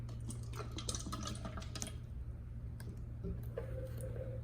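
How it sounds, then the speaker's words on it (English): Canyonlands purified water trickles and splashes into a container for a couple of seconds, then settles into a quiet hum with a few faint drips. "Let's pour some water in."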